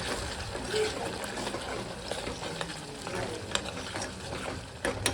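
A spice mixture being stirred in a pan for a home-cooked Gujarati dish, giving soft scraping and light sizzling that runs continuously at low level with occasional clinks, no voices.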